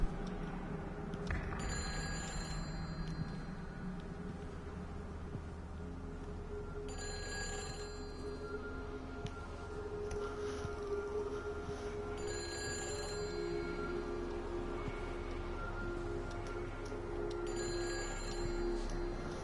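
A telephone rings in the video game Everybody's Gone to the Rapture, sounding in repeated bursts about every five seconds over a low, steady ambient hum, with no voices.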